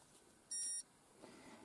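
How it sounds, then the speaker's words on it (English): A single short electronic beep from a handheld tracking device used to recall a dog while hunting pigs, faint and high-pitched, lasting about a third of a second against quiet outdoor background. "I send him a beep like this"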